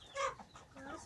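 Chickens cluck briefly and faintly from a crowded local chicken pen shared with guinea fowl.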